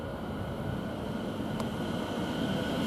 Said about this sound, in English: Now we've got a train movement, 720.